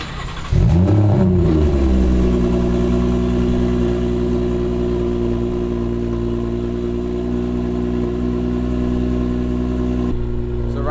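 A BMW 340i engine cranks and starts after a muffler delete, then idles loudly with a deep, raspy exhaust rumble that holds steady for about ten seconds before easing off.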